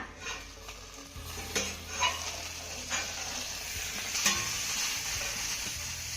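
Garlic potatoes cooking on a village-style iron tawa over low flame, giving a steady close sizzle and hiss with occasional soft scrapes and clinks of a utensil.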